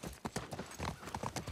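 Horse hooves clip-clopping in The Last of Us Part 1 video game, a quick run of rhythmic, fairly close hoof strikes at moderate volume with no talk over them.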